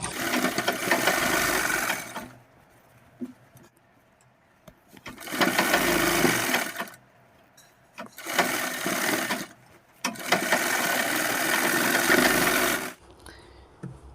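An electric sewing machine stitches a seam in men's underwear fabric with a one-foot margin, running in four long steady bursts separated by short quiet pauses, loud and close.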